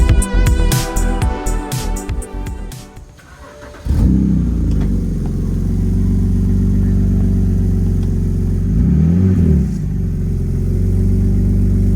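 A BMW E39 540i with its exhaust pipes removed fires up and revs in short sharp bursts, then settles into a loud, deep, rumbling idle with one more blip of the throttle, close by and with no talking.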